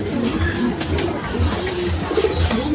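Pigeons of a rare-colored homing breed coo repeatedly in a loft, a series of low, rhythmic throaty coos close by over a soft background murmur.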